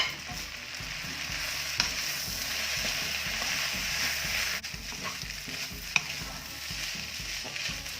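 Rice noodles and bean sprouts stir-fried for pancit, a continuous hiss of sizzling under rhythmic scraping and tossing of a utensil against the pan, with a couple of sharper clanks and no voices.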